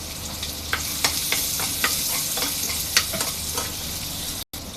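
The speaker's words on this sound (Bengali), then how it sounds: "রসুনটাকে একটু ভেজে নিব তেলে।" Crushed garlic fries in a little oil in a wok, giving a loud, constant sizzle. Sharp clicks and scrapes of a spatula stirring the pan break in every half second or so, with no voices.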